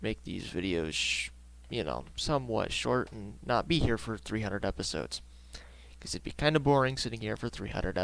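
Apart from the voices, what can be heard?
None of the usual background noises is heard.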